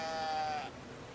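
A sheep in the video game Brothers: A Tale of Two Sons gives one short, clear bleat, fairly close and alone, fading out within about a second.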